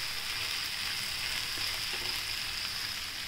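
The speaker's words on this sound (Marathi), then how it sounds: "परतून घेऊया छान।" Sprouted green gram being stir-fried makes a soft, steady hiss of frying, fairly quiet and even, with a couple of faint stirring touches and no talk.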